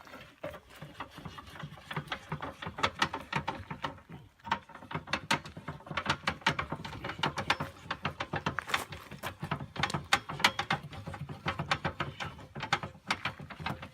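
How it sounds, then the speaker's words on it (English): A crank tool winds down a camper trailer's stabilizer jack, giving a steady run of close mechanical ratcheting clicks and gear turning throughout, with a brief pause near the start. "This tool is used to go here, and you're going to crank it down."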